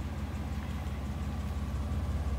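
A 1988 Buick Reatta engine idles at a low, steady, even rumble, running smoothly and quietly with no revving and no voices.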